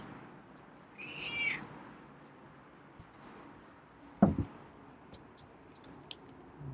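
A feral cat gives a single faint, short meow in the quiet early on, followed later by a soft thump and a few small ticks.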